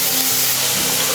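Onions with curry leaves sautéing in a pan for a tindora (kovakkai) fry, a loud close continuous sizzle with stirring throughout, no talk.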